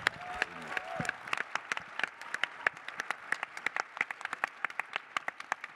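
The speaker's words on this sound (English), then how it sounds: "I want an applause for Darius" An audience at an AFI Fest film Q&A applauds cinematographer Darius Khondji: brisk, sustained clapping from many hands, crisp and fairly close, with a voice briefly heard at the start.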